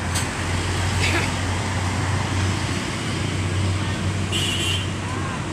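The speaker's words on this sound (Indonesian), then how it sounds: "bus melanjutkan perjalanan" Ex-ALS bus number 094 rumbles along a road near Palembang, a steady low engine drone and broad traffic noise throughout, with brief hissing bursts and people talking in the background.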